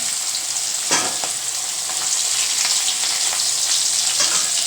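Fish pieces fry in oil in an old wok with a thin, worn-down bottom: a dense, continuous close-up sizzle with occasional spatula taps and scrapes, no voices.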